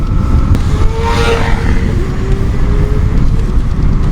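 A large pack of roughly 80 to 100 motorcycles, including a Yamaha XJ 600, rides together on the road, giving a loud, continuous close engine drone with a rising and falling pitch.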